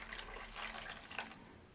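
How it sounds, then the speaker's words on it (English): Water poured from a tap into a dish of green onions being grown without soil, a steady close splashing fill lasting under two seconds with no talking. "You're just going to fill it up with water."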